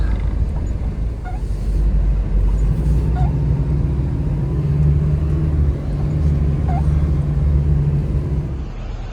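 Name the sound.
car arriving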